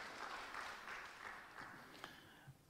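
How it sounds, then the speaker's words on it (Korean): Church congregation clapping to welcome a newcomer during a Sunday service, a faint, distant patter of many hands over room noise with a few sharper claps. "우리 일어나시면 박수로 환영하겠습니다"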